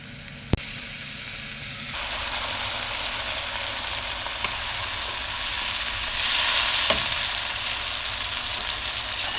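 Red chilies frying in a pot of dhaal, a steady loud sizzle and hiss with a sharp clack near the start and swelling spitting midway, close up and with no talking.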